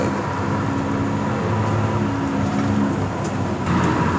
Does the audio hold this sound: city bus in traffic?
yes